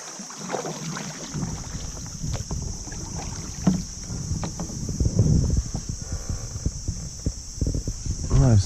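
A kayak moves on the Sandusky River in Ohio, a Kerco Rapids paddle dipping and pulling through the water in uneven strokes amid splashes and wind noise, with some talking near the microphone.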